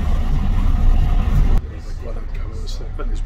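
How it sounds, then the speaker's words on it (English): A vintage Leyland Atlantean bus rumbles past at close range on a Glasgow street, its heavy diesel engine loud and steady before the noise drops away abruptly as it moves off. "There's a vintage Atlantean coming along."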